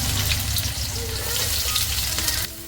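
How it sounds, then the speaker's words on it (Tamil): Onions frying in hot sesame oil for fried rice: a steady, close crackling sizzle fills the clip with a continuous bubbling hiss and no talk. "ஒரு 100 ml நல்லெண்ணெய், எண்ணெய் காஞ்சிச்சு, வெங்காயம் போட்டுக்கலாம்."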